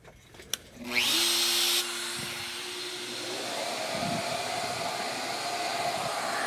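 A Shaper Origin handheld CNC router cutting an inlay starts with a click, whines up to a loud, high spindle pitch, then settles into a sustained cutting roar with occasional deeper bites into the wood.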